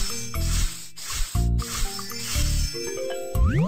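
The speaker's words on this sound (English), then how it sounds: "Spray with detergent." Detergent sprays in bursts onto an oil-covered penguin in the Baby Panda animal care game, loud and close. Several hissing squirts are separated by short gaps, with cartoonish tonal effects at the end.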